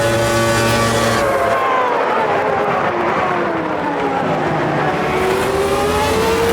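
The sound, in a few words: race car engines in the video game Automobilista 2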